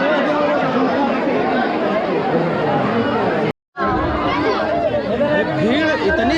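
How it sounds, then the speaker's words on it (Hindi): A large crowd of pilgrims at Nidhivan, Vrindavan, fills the air with constant overlapping chatter, loud and close, with a momentary break of silence partway through. "इतनी ज़्यादा भीड़ हो गई है कि उसको कंट्रोल करने की कोई बहुत ज़्यादा व्यवस्था नहीं है।"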